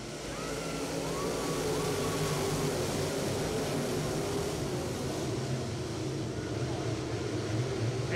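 Dirt late model race cars roar together at a restart at Needmore Speedway, a dense continuous engine drone filling the whole stretch with rising whine over steady rumble, loud and unbroken.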